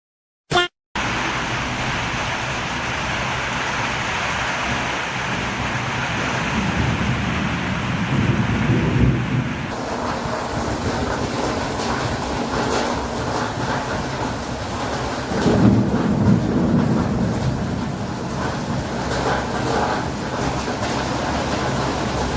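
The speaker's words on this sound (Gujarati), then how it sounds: "ત્યાં પાછું છાંટા ચાલુ છે" A spell of light drizzle falls outdoors as a steady, fairly loud broadband hiss for about twenty seconds, swelling slightly in places, with no one talking.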